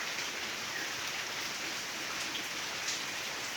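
Steady rain falls on garden plants and flowers with water pooling on the ground, an even, dense hiss with no pauses and no voices.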